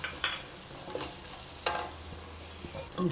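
Ginger, garlic and fennel seeds fry and sizzle in a pan for a goat intestine curry, with a steady crackle broken by a few soft stirring scrapes close by.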